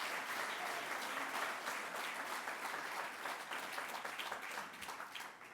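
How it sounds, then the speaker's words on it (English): Audience at a town inauguration ceremony applauding for a birthday, a steady, dense wash of clapping that holds for several seconds before easing slightly toward the end. "Give him a big round of applause for his birthday."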